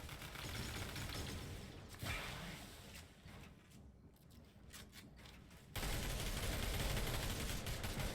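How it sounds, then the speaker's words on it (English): Rapid bursts of distant gunfire in Fortnite rattling in dense volleys, dipping briefly before surging louder again, with no talking. "You hear a ton of gunfire that's going on completely above them."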